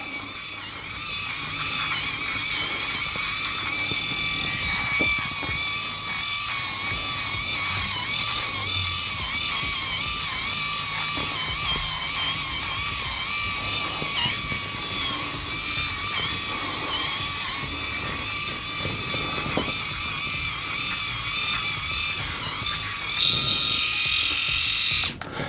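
A Skull Shaver Palm electric head shaver runs continuously with a high, buzzing motor whine that wavers slightly in pitch as it moves over a scalp, close and steady throughout.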